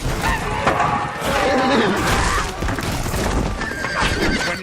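Horse neighing and whinnying amid a Lord of the Rings film battle scene, loud and close, with clip-clop hooves and crashing combat noise around it.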